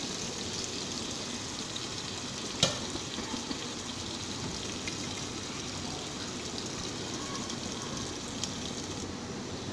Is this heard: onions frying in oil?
yes